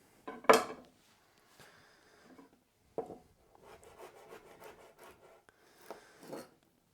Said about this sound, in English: I'm just cutting up this garlic for the fajitas and for the pasta